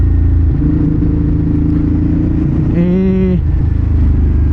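A motorcycle being ridden gives a steady, loud engine drone with road and wind rumble throughout, and a brief rising tonal whine near the end.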